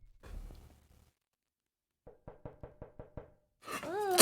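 Knocking on a door during a late-night podcast: after a brief muffled voice and silence, seven evenly spaced, fairly faint knocks sound in a steady row, followed by a burst of loud speech.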